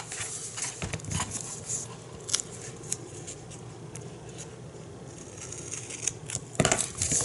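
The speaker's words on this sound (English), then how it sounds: "you just put the second layer on top of that one and then cut it." Scissors snipping through two stacked layers of scrapbooking paper for an iris shutter rose project, close and crisp, with irregular small cuts and rustling paper handling spread across the clip, no talking.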